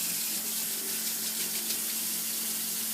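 Warm water runs from a kitchen tap in a steady, continuous hissing stream, close and even for a few seconds, with a faint low hum underneath.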